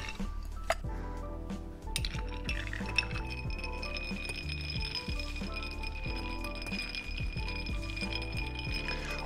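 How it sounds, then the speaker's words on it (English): A Negroni is stirred over ice in an old fashioned glass, ice cubes clinking and chiming steadily against the glass as the spoon circles, close and clear with no talking. "Then add ice to your old fashioned glass and give it a stir."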